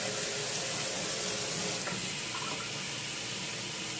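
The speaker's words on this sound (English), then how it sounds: "We need a little bit more water up in here." Water runs steadily from a tap into a sink, a continuous hissing splash with no talking.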